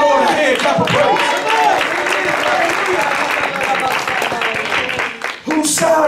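A church congregation claps hands in praise, a dense, steady wash of applause lasting throughout with voices mixed in beneath.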